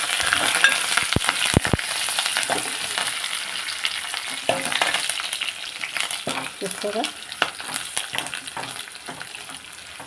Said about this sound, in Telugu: ఉల్లిపాయలు ఎక్కువ వేసాను. పోపు ఎక్కువ ఉండాలండి నాకు ఇది దాంట్లోకి.